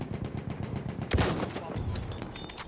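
Battlefield 1 gunfire during a desert match: a rapid series of close, fast shots, then one sharp loud blast about midway, with a brief voice underneath.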